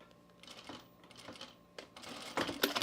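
Sewing machine stitching a stretched ruffle onto a T-shirt, with short bursts of mechanical whirring that get louder and denser toward the end, close by and with no talk.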